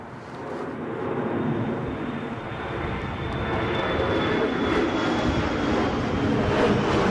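An airplane passes low and loud over the runway at Newcastle during Storm Kathleen. The steady engine roar is mixed with gusty wind rumble and builds slightly as it flies overhead.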